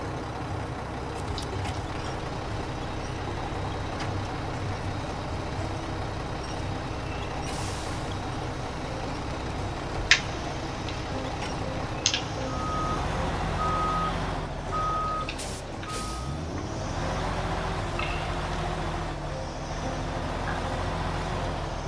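A truck engine idles and labours in a low, continuous rumble while reversing beeps repeat in a regular pattern, with a couple of sharp air-brake hisses and the engine revving deeper toward the end.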